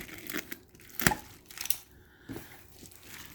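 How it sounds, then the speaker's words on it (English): Packing tape being cut on a boxed China Dress Tokisaki Kurumi anime figure, heard as close, short tearing and crinkling bursts with one sharp rip in the middle, alone without talk. "More tape to cut."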